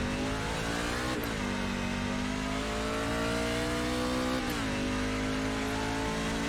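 A NASCAR race car engine in iRacing at Hockenheim holds a steady high drone, with two quick dips as the driver shifts gears, loud and constant with no talk.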